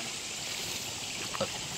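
Strong stream water rushing on a farm lot in Tanay, Rizal, a steady, soft broadband wash of flowing water with a brief splash or gurgle near the end, faint and without voices.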